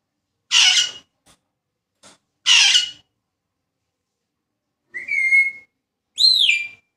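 A pet bird gives short whistles: two bright chirpy bursts with a faint click, a pause, then two clear rising-and-falling whistle notes, close and alone in a quiet room.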